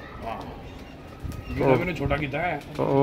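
A pigeon comes in to land, with a few soft wing flaps and coos, while someone talks over it close by.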